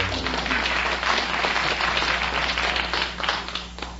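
A studio audience at a 1950s quiz show applauding steadily, a thick continuous wash of clapping that holds for several seconds before thinning slightly at the end.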